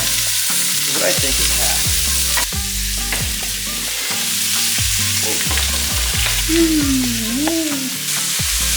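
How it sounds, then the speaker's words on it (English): Vegetables sautéing in oil across two pans, a continuous sizzle with repeated scraping stirs and utensil knocks, close up; a voice briefly speaks and a short whistling tone rises near the end. "put them in the pans. We're going to, it's called sweat them, saute."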